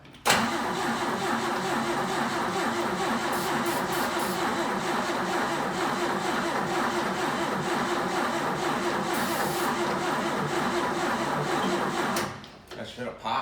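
A 1962 Jeep M170 engine cranks without catching: a steady, rhythmic starter churn runs close and loud for about twelve seconds, then cuts off.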